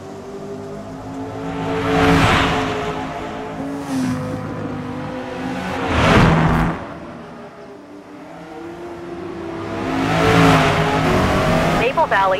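A Corvette racing around Maple Valley in Forza Motorsport, its engine roaring up through the revs in three loud surging waves that rise and fall, with a voice running underneath.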